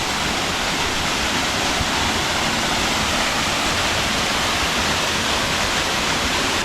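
Steady broadband roar of a waterfall in Costa Rica, loud and continuous throughout with no breaks and no voices over it.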